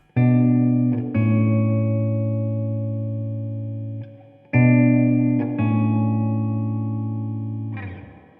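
Two pairs of strummed guitar chords through a Blackstar Dept. 10 AMPED 2 room reverb setting sustain and fade with a subtle, natural room ambience, played loud and close with brief pauses between.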